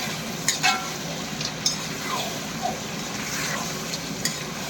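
Duck meat with pumpkin frying in a pan, a steady sizzle broken by several soft scrapes and knocks as it is stirred, close by with no talk.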